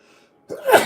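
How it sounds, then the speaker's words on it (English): A single sharp human sneeze bursts out after a brief quiet breath, loud and close. "I feel like I'm gonna sneeze."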